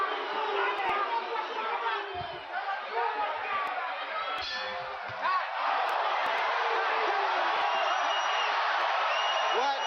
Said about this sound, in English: you hear the crowd start to boo